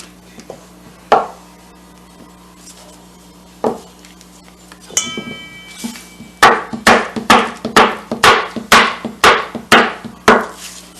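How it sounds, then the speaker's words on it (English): A knife chopping pieces of butter in half on a cutting board, a few scattered sharp knocks at first, then a quick, regular run of about ten firm chops, close and clear with no talking. "So I'm going to cut my 1-inch pieces in half, and then I'm going to throw them in"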